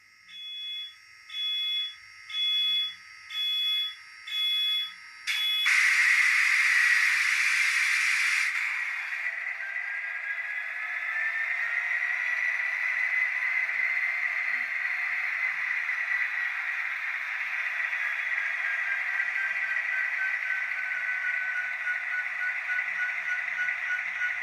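N scale model train locomotive powering up: a rapid series of electronic beeps, then a burst of hiss, settling into a steady high whine with a faint rising tone, close and alone.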